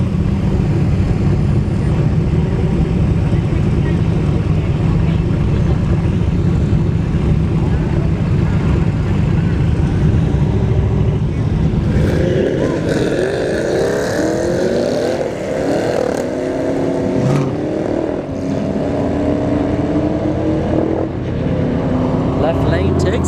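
Two Camaros, one a CL1 in the right lane and likely an SS in the left, launch down a drag strip at a test-and-tune session; a loud engine roar builds midway with rising revs and passing noise, over crowd chatter and an announcer.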